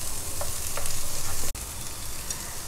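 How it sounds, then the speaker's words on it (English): Carrots sautéing in a pan for a vegetable noodle soup, a steady close sizzle and frying hiss with light stirring, broken by one brief sharp interruption partway through. "for few seconds I'll saute my carrot and then add my zucchini and other vegetables"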